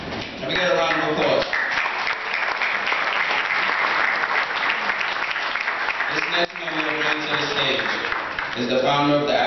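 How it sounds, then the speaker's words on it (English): An audience at a 2013 African Heritage program applauds loudly and continuously, dense clapping filling the whole stretch, with a voice speaking over it at the start and end. "Can we get a round of applause?"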